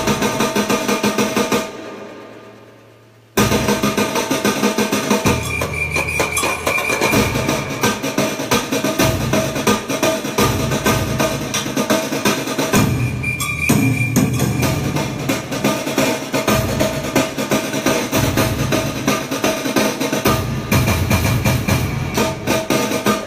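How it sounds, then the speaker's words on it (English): Dense layered drum break built from several stacked grooves with toms, loud and continuous with a short drop-out near the start, played alone in a live studio session. "So then we layered some drums together, and we made like different grooves"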